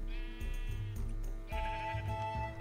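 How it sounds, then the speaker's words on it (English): Sheep in the video game Minecraft bleat in a few wavering, nasal calls one after another, heard fairly faintly with no talking over them. "I found closer sheep."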